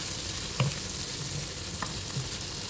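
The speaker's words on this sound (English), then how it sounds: "And then you stir." Spicy pork with coriander powder being stirred as it fries in a pan, a steady low sizzle with two or three brief scraping stir strokes, close and alone without talk.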